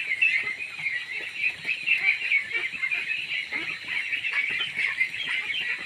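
A crowded pen of farmed ducks makes dense, continuous quacking and honking. Many birds call at once at close range, steady throughout with no pauses.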